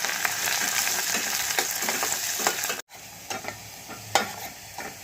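Chopped garlic and onion frying in hot oil in a pan, a steady close sizzle broken by scraping stirs, with a brief dropout near the middle before the frying resumes.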